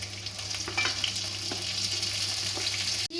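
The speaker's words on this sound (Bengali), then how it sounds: "গাজরগুলোকে একটু ভেজে নেব। দিয়ে দেব কেটে রাখা বিনস," Chopped carrots and beans frying in oil in a pan for a vegetable dal, a loud, continuous close-up sizzle with light stirring scrapes throughout, no talking.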